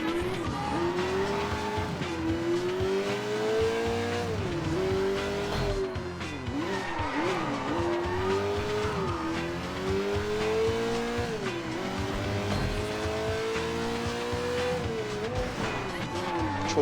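In the Sleeping Dogs video game, a fast car's engine whines up and down through the gears, with repeated tire squeals on hard turns, loud and continuous throughout.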